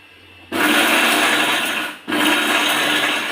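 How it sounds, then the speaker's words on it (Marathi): A mixer grinder crushes curry leaves, chili powder and garlic cloves into a coarse paste. Two loud, steady whirring bursts sound up close, separated by a brief pause as the motor switches off and on. "छान मिक्सरमध्ये अगदी असं थोडंसं जाडसरस राहू द्यायचं ग्राइंड करून घेते मी लगेच"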